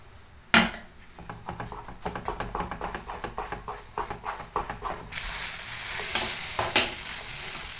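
Sooji chikki mixture with ghee being stirred in a pan, giving a steady run of scraping, rustling strokes that get denser and louder toward the end, with no talking.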